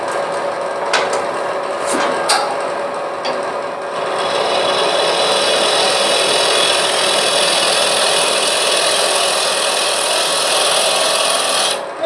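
A wood lathe spins as a tool cuts into a wooden vessel being hollowed, making a steady, loud rasping scrape with a few sharper catches early on before settling into an even, continuous cut.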